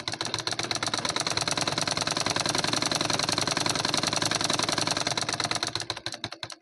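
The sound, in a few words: sewing machine stitching cotton blouse lining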